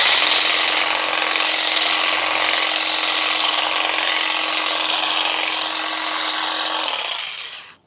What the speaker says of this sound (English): So let's try it on this evergreen, first with the grass shears.